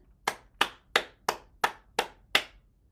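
Seven sharp hand claps from a single person during a circulation and heart-health exercise routine, evenly spaced about a third of a second apart, close and crisp with a short room echo after each one, no talking.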